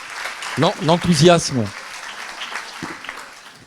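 Audience applause at a debate on culture and cross-border cooperation with a European deputy: a steady, fairly faint patter of clapping runs through the whole stretch beneath a speaking voice.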